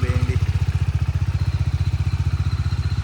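A repaired 2019 Bajaj Dominar motorcycle engine idles close by, a steady, even low thump with a light mechanical clatter layered on top, running alone without any talk.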